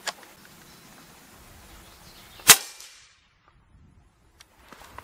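A suppressed 350 Legend rifle fires subsonic ammunition, a single sharp muffled crack standing alone in a quiet outdoor setting, followed by silence.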